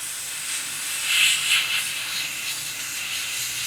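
An airbrush blows plain air onto a scale-model SAS Jeep to dry a sand wash, giving a steady soft hiss with two slightly louder surges, close and without speech.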